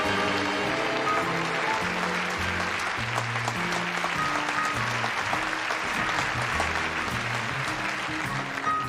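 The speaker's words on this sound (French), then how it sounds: "Et on l'applaudit bien fort." Audience applause greets a circus-style performer, steady clapping running throughout beneath loud pulsing tonal music.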